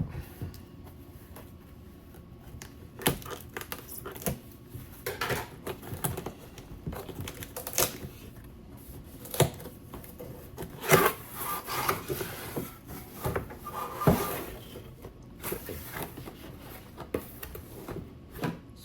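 A TAPO robot vacuum's retail box being opened up close: scattered cardboard rubs, scrapes and rustles with irregular taps and handling knocks, no talking.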